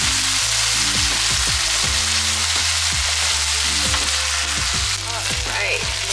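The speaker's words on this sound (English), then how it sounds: "I'm just gonna add a little bit of broth over this, cover it, and let that simmer" Squash ribbons cooking in broth in a covered pan give off a loud, continuous sizzle and bubbling hiss that stays close and steady throughout, with intermittent low tonal hum patterns beneath.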